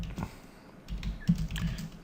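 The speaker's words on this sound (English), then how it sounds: "We can also type in here" Keys clicking on a computer keyboard in a short close burst of uneven taps, fairly quiet, with no talking.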